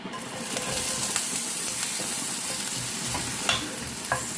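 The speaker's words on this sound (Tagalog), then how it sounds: "So, mainit na. Lagay ko na yung aking onions." Onions dropped into hot oil in a home kitchen pan, a sustained bright sizzle with scattered pops and crackles, close and fairly loud, no voices over it.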